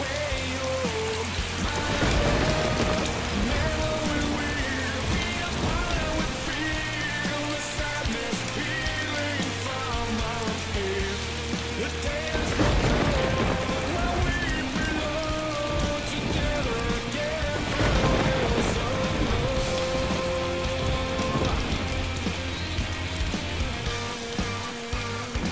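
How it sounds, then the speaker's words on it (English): Steady heavy rain pours across the whole scene in the video game DayZ, a dense continuous patter with tonal game sounds and music running underneath. "Wow, is it ever raining?"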